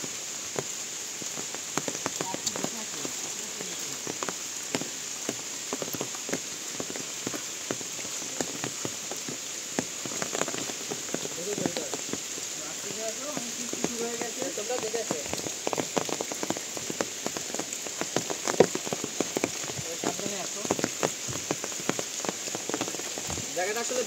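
Heavy rain pours onto a pond bank, a dense, constant hiss of close drops patterned with sharper splashes, with no let-up.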